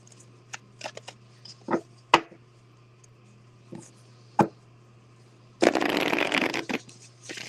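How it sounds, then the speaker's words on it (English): Tarot cards are shuffled near at hand: scattered taps and snaps of cards being handled, then a dense, loud riffle that runs for the final couple of seconds with no talk over it. "And you saw me shuffle"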